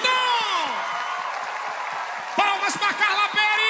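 Crowd at a tenth-anniversary live concert applauding and cheering, a dense wash of clapping with shrill whoops and voices rising over it, loud and close throughout.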